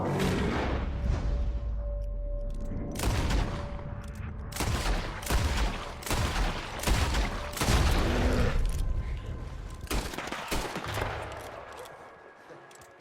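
In a bear hunt in Red Dead Redemption 2, loud gunshots crack out in rapid, irregular bursts with booming echoes, several close together, then fade to a quieter tail, with faint shouting underneath.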